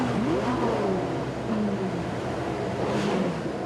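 Car club members rev their engines together in farewell, a sustained engine roar with rising and falling revs and overlapping pitch sweeps from several vehicles, moderately loud and continuous.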